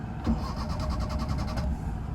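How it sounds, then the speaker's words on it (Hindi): A Maruti 800 car's engine cranks without catching, a rapid rhythmic whirring of the starter that runs for about a second and a half over a steady background drone. "स्टार्ट नहीं हो रही गाड़ी भाई"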